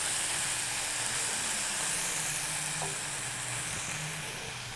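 Onions softening in a pan for Tamil-style dal, giving a steady, even sizzle and hiss that holds at a constant level throughout, with no voices.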